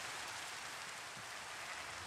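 Steady rain in Minecraft hisses continuously, a dense, even patter with no pauses and no voices.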